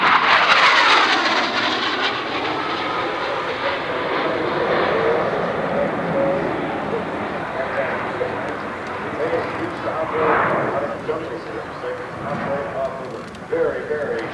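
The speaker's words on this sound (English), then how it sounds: "By use of conventional controls, the pilot can move his aircraft in any direction desired." A Marine Corps jump jet roars loudly while hovering at the 1989 Oshkosh airshow, a constant broad engine rush over the whole stretch as an announcer talks.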